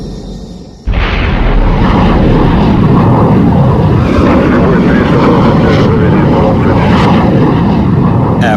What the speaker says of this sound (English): The MiG-19 mounted on a mobile launch site was virtually shot into the sky